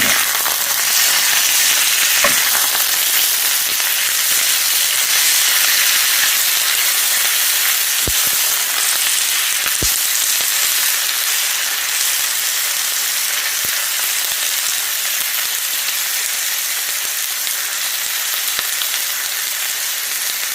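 Potatoes and onion fry in a pan with a loud, continuous, close sizzle and hiss, broken by a few faint clicks of a utensil, with no voices.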